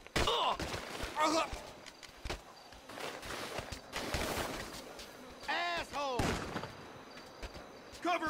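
Video game shootout during a robbery gone wrong, with several sharp gunshot bursts scattered among footsteps and in-game character voices speaking.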